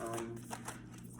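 Tarot cards are shuffled by hand in a quiet indoor room, giving a steady run of soft papery riffling and light taps with no talk.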